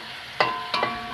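Cassava leaves fry in oil in a pan as they are stirred, with a few scraping strokes over a soft sizzle, close and fairly loud, no talking.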